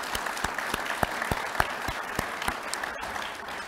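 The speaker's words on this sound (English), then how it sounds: "So please give yourselves a round of applause." Audience applause at the YVR airport annual public meeting, a steady wash of clapping from a seated crowd in a hall, with a few sharper individual claps standing out in an even rhythm.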